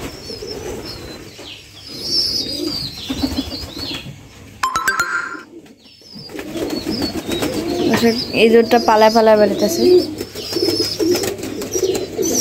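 Pigeons and a pigeon chick in a loft, with cooing and chirping, wing flaps and a short burst of flapping, heard close by beneath a voice talking at intervals.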